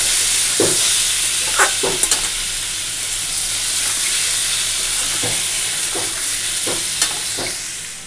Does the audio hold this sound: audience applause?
no